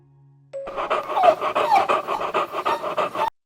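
A dog panting rapidly and steadily up close, quick rhythmic breaths in a continuous run before stopping abruptly.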